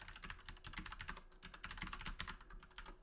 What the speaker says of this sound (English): You type in your credentials